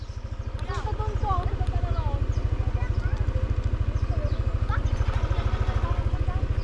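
A motorcycle engine on a ride near the Poyao River throbs with a steady, rapid low chug that stays close and loud throughout, while people talk over it.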